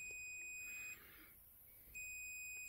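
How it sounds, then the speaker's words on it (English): An XY-BJ timer module's buzzer gives piercing electronic beeps, a long continuous tone that cuts off for about a second and then resumes, loud and close with no talk. "the buzzer can keep going for the whole time period that you've set"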